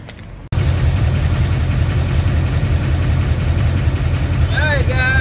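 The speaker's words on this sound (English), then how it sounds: "sorry if you hear the truck in the background" A truck engine idles steadily and loudly throughout, a constant low rumble beginning after a brief quieter moment at the start, with no speech over it.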